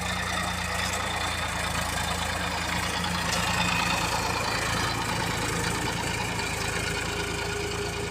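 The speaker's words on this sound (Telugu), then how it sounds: "ట్రాక్టర్ పిలిపించి దుక్కి దున్నుతున్నాం" Tractor ploughing a farm field, a steady mid-to-low diesel engine drone with faint knocking, continuous and fairly close, no voices over it.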